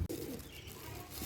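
Pigeons softly cooing as they are fed grain, low murmuring calls with a faint flutter, fairly quiet against a steady background.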